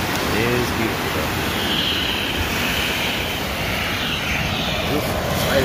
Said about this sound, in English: Fighter jet.